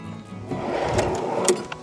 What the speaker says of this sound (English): This one here has got a slide out drawer.